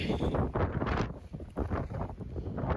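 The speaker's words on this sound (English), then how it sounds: "It's cold. It's windy." Strong gusts buffet the microphone, making heavy low rumbling bursts that rise and fall unevenly and close up, with no voices.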